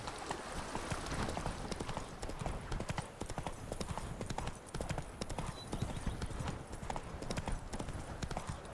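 Hoofbeats from Roach, the horse in The Witcher 3, form a rapid, steady clip-clop that runs close and loud the whole time, with a faint voice speaking underneath.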